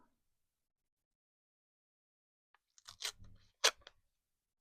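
Scissors cutting scraps of paper at a desk, preceded by silence, then a brief cluster of close crisp snips and rustles with two sharper cuts near the end.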